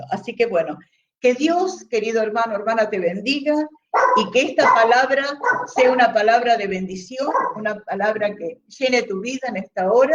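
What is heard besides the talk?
dog barking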